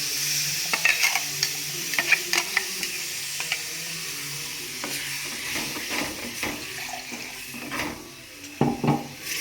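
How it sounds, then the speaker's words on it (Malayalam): Roasted coconut paste poured into a pan of sautéed vegetables for a bitter gourd theeyal curry, then stirred with a spoon scraping the pan in uneven strokes over a soft sizzle, with occasional louder clinks near the end. "ഇതിലേക്ക് നമ്മൾ വറുത്തരപ്പ് ഒഴിക്കണം."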